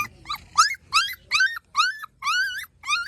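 A puppy whimpers in about seven short, high, rising cries, evenly spaced and close by, with quiet between them.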